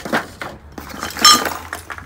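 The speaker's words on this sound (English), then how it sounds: "Another glass lid," A glass lid clinks briefly as it is picked up and handled, a light, close chime standing out around the middle against low background noise.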